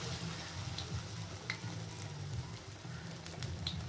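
Pumpkin flower fritters frying in hot oil give a steady, close sizzle with a soft crackling patter that holds evenly throughout, with no voices.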